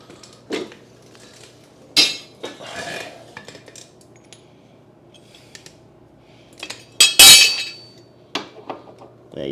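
A metal push mower blade from an Ariens lawn mower, flipped on its back, is fitted onto its blade adapter, giving a few sharp metallic clanks and scrapes near the mic, with quiet gaps between them.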